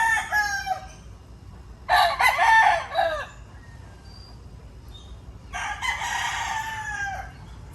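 Roosters crowing on Malapascua Island, several long bursts from more than one bird, fairly close, with gaps of quiet between them and no talking.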